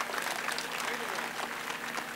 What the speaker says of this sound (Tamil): அதுக்காக பரத் சாருக்கு இன்னொரு கைத்தட்டு கொடுங்க